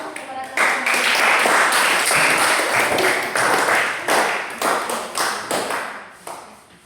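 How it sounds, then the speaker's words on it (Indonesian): A classroom of students applauds presenting classmates, with dense clapping from many hands starting strong, then thinning into scattered, fading claps at the end. "kita berikan aplaus kepada teman-teman"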